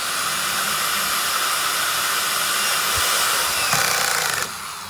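A power screwdriver drives screws into aluminium profile for a polycarbonate pool cover, with a steady close whirring hiss that holds for several seconds and then drops off sharply near the end.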